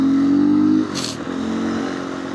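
A GPX off-road motorcycle engine idling close by with a steady low hum, briefly blipping and shifting pitch partway through before settling back to a constant idle.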